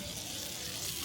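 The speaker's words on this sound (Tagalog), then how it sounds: "And here's the sizzling beef." Beef sizzles and fries on a hot sizzling plate at a grill restaurant in Coron, a loud, steady, dense crackle that fills the whole moment without pause.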